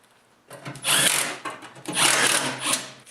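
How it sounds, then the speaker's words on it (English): An impact driver tightens the belly pan bolts on a snowblower in two short, loud whirring bursts with a brief pause between them, close to the listener, after a quiet start. "if you use an impact like this to reinstall the bolts, make sure you do not over tighten them because you can strip the holes."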